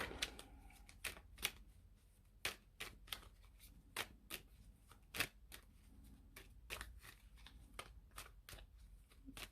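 Tarot cards shuffled and drawn from a deck, a quiet run of crisp, irregular flicks and snaps close by with no other sound.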